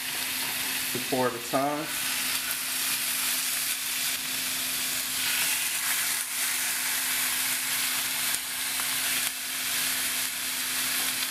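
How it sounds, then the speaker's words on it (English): Honey-marinated lamb rack pops sear in a hot pan with a steady, fairly quiet sizzle and hiss throughout, and a voice speaks briefly near the start. "And then let those sear for at least maybe 3 minutes each side."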